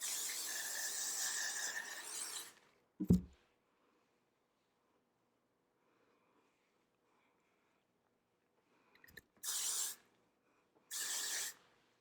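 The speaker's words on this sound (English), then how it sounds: "you definitely want to hairspray down" Hairspray hisses from an aerosol can onto a wig in three bursts: a long spray, then after a thud and a pause, two short sprays close together.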